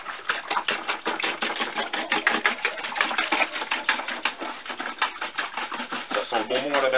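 A kitchen whisk beating a liquid boilie bait base in a bowl, producing fast, steady, rhythmic clicking and slapping that continues throughout at a close, even level.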